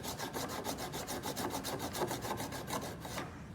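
Steady rhythmic rasping of a hand file drawn up and down across an acrylic surface, about a dozen even strokes close and loud, stopping near the end.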